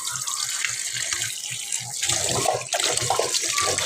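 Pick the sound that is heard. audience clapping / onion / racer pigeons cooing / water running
water running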